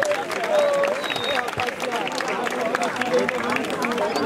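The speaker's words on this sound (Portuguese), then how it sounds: "Uma salva de palmas pra batalha de MC." A crowd at a freestyle MC rap battle applauds and cheers, a dense wash of clapping and shouting voices with people talking through it.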